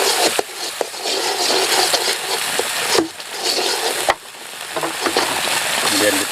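Seasoning for Lombok-style Taliwang grilled chicken is stirred in a pan, a loud continuous scraping sizzle with a few sharp knocks of the utensil against the pan; no one speaks.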